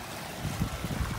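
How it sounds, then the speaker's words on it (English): Water splashing from a garden pond waterfall with biofalls at the top of a finished backyard pond, a steady low rushing and churning flow heard close by, without speech. "Waterfall up on the top."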